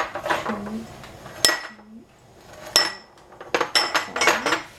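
Yogurt is spooned into small pots in a kitchen, heard as a handful of sharp clinks and taps of a utensil against containers, close and irregular, with a faint voice in places.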